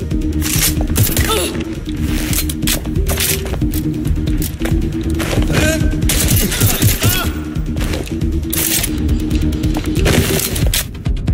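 Sustained gunfire in the video game Watch Dogs: Legion, dense rapid-fire bursts that barely let up, loud and close, layered over game effects and brief speech.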